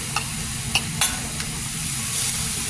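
Steak sizzles in a pan during a family weekend trip in Alaska, a steady close hiss broken by a few sharp pops and clicks.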